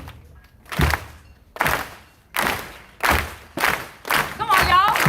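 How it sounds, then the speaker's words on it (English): A protest crowd at a Seattle Black Lives Matter march claps slowly in unison, six loud, evenly spaced claps that gradually quicken, with voices calling out over the final beats. "And then we're gonna go start clapping."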